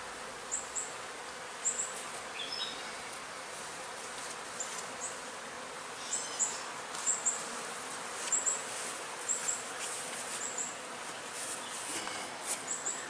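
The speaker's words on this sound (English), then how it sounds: "Here we've got a bee trying to kill her." Bees in an open beehive make a steady close buzzing drone, with faint high chirps from birds scattered over it.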